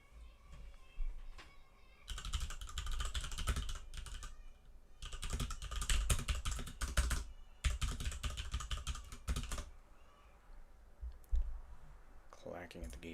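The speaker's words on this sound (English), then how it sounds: "Clacking at the keyboard." Rapid clattering keystrokes on a computer keyboard come in several dense bursts separated by short pauses, close to the microphone and otherwise unaccompanied.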